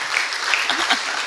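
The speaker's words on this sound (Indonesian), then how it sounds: "Tepuk tangan dong." A church congregation breaks into a brief burst of clapping, dense and fairly close, with faint voices mixed in.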